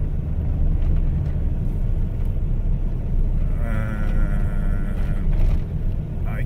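A car with a fuel-pressure fault runs with a heavy, low rumbling engine that drones steadily and loudly, with a brief tonal whine partway through as it struggles and dies out on its own.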